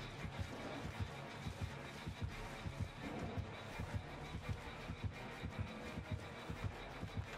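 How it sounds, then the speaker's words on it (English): Killer's heartbeat warning in the Dead by Daylight video game: a low, muffled double-thump pulse repeating steadily and evenly throughout, faint and alone with no talk. "I hear heartbeat."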